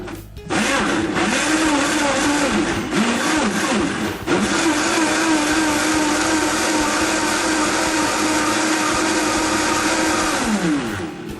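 A Vitamix 5200 blender grinds tomatoes, onions and peppers with a loud, steady motor roar that holds for about ten seconds, the pitch shifting slightly as the tamper presses the load into the blades.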